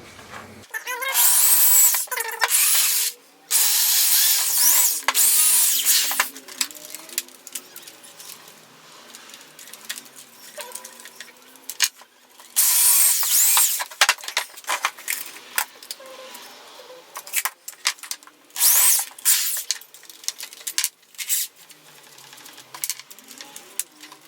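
A power drill bores pilot holes into wood for a cheap DIY bike repair stand, running in several loud bursts of whirring with short pauses and clicks between them.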